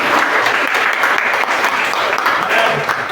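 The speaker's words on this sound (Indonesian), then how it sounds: "beri tepuk tangan buat 10 training" Loud, steady applause from an audience at a company award ceremony for 5R project improvements and trainers, sustained and dense throughout with a faint murmur of voices beneath.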